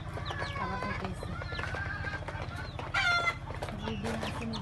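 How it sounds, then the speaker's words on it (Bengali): Chickens on a farm cluck and murmur continuously while eating feed, close by, with overlapping calls from several birds and a louder burst of squawking partway through. "আর মুরগিগুলো খাবার খাইতেছে।"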